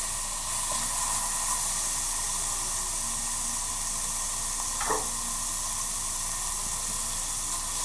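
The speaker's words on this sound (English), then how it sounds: "We're going to let this bacon go till it gets nice and crispy." Bacon sizzling in a hot pan with no oil, a steady, even hiss of frying fat that continues throughout with no talking.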